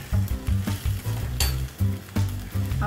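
Eggplant slices frying in oil in a pan, a crackling sizzle broken by repeated low knocks and clinks of a utensil against the pan in an uneven rhythm, one sharper hiss partway through, no speech.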